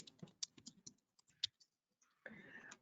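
Close, quick keystrokes on a computer keyboard, tapped in uneven bursts while logging on to a database machine to type a MySQL command, followed by a short pause and then a steady hum.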